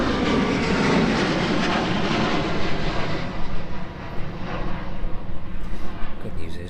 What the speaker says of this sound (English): The Ryanair safely departing out then from East Midlands this evening